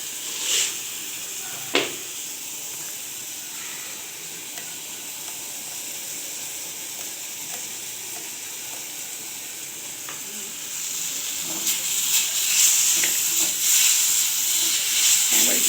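Raw tamarind simmers in sugar syrup for chutney, a steady close hiss and bubble that grows louder toward the end, with occasional light clicks of a spoon.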